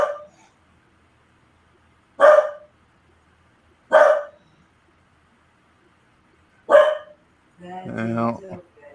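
A pet dog barks at fireworks, three sharp single barks spaced a couple of seconds apart, each loud and close, followed by a louder stretch of voiced sound near the end; otherwise quiet between barks.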